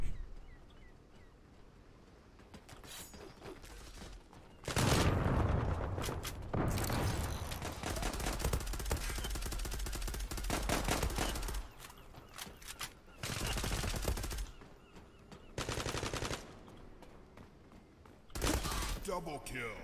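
Rapid automatic gunfire bursts from the online shooter Zula Global come in repeated loud volleys separated by quieter gaps, with someone talking in between.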